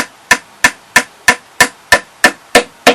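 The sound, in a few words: tack hammer tapping beehive frames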